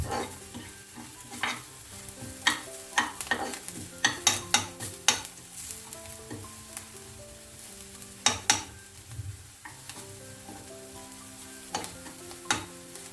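Roasted fenugreek seeds go into a pumpkin, green gram and radish-leaf curry as it sizzles in the pan, with repeated scraping stirs and spoon knocks over a steady frying hiss.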